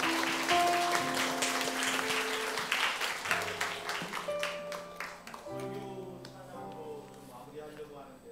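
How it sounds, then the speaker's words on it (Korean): A church congregation at a Sunday service claps as music plays, the applause fading over several seconds while sustained instrumental tones continue beneath it. "하나님께 큰 박수로 영광을 올려드립니다"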